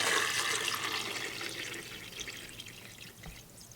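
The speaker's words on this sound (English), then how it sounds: "you want to pour in 4 cups for me, Eric?" Water splashes as it is poured into the reservoir of a Capresso CoffeeTEAM coffee maker, a steady close gurgling stream that gradually tapers off.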